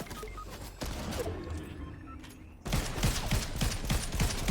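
Bursts of rapid gunfire crackle in Fortnite, a sparse volley first, then a denser, louder stretch of repeated shots.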